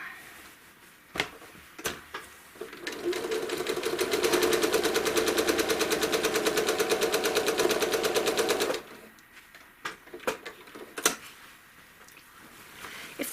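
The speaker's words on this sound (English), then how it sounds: "Stitch in the ditch a couple stitches and turn it again." A sewing machine stitches in the ditch along the seams of a small American flag quilt panel. A steady, rapid mechanical run lasts several seconds, close and clear. Short pauses and handling clicks come before and after it as the fabric is turned.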